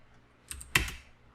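Two light mouse clicks in 3D modeling software, a right-click followed by a press of the bake button, quick and close with a short pause between them, alone over a quiet background.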